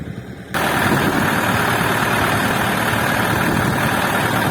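A KENTAVR 404S tractor engine starts and settles into a loud, steady idle, a constant rough rumble close by that runs without pause after a brief quieter moment.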